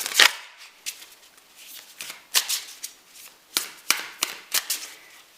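A deck of cards being shuffled for a psychic reading, close and crisp, with repeated riffles and snaps coming in uneven bursts and no talking.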